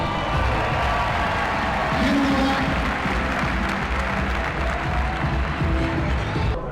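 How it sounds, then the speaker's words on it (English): A crowd at a CrossFit pro final claps, cheers and whoops loudly together, a dense roar of applause with shouting voices that holds steady before cutting off at the end. "yourselves a round of applause"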